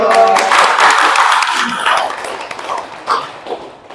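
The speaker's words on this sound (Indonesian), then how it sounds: "Tepuk tangan dong." A small studio audience on an Indonesian talk show gives brief scattered applause. Voices are mixed in, and the clapping fades over a few seconds.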